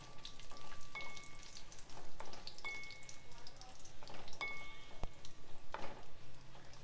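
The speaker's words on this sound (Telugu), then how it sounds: "1/2 స్పూన్ జీలకర్ర, ఒక 5-6 ఎండుమిరపకాయలు, ఇవి కొంచెం వేగనివ్వాలి." Cumin seeds and five or six dried red chillies sizzle in hot oil in a pan for a pigeon pea dal fry, a steady close crackling hiss with a few light clinks and no talk.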